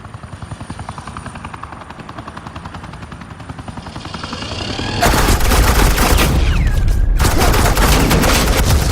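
Suppressing gunfire in the Batman: The Enemy Within video game, a dense rattling burst of rapid automatic shots erupting loudly over a steady pulsing helicopter rotor, the barrage stopping abruptly near the end.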